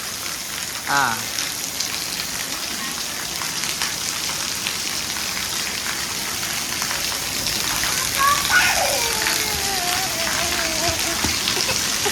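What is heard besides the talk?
rain falling and water dripping from roof eaves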